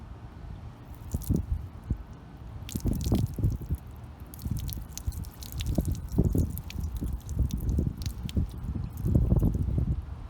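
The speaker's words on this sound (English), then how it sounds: "I just want to pour water on it and see what happens." Water poured straight onto the paint of a ceramic-coated car, with close splashing and trickling in irregular bursts as it runs off the slick surface.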